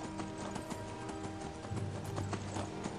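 Horse galloping in the video game Skyrim on PS3, quick repeated clip-clop hoofbeats in a steady running rhythm, fairly close, with faint game background sounds.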